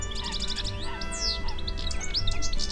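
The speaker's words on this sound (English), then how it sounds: "One of my favorite things that I captured was a European goldfinch in a tree." A European goldfinch singing in a tree, with rapid bright twittering and chirping phrases, close and clear, continuing throughout with no talk.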